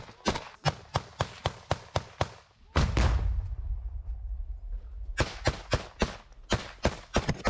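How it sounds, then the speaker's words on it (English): Gunfire and explosions from frontline combat in the Ukraine war: sharp, rapid bursts of machine-gun fire, a loud close blast followed by a rumbling roar, then more quick, cracking shots. "We now hear the fire whizzing right overhead again and an explosion occurring in front of him."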